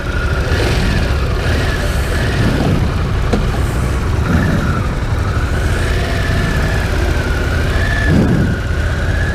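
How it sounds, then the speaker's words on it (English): A Harley-Davidson Pan America 1250cc adventure motorcycle engine idles with a steady, loud, continuous rumble and no pauses, while faint wind or road noise sits underneath. "Nice motor. The 1250cc motor."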